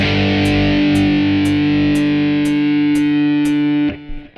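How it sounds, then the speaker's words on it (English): Electric guitar power chord played through distortion, a single loud sustained chord with a buzzy, saturated tone ringing for about four seconds before being cut off. "When you play a power chord, you get that distinctive rock sound, especially if you put a bit of distortion on it."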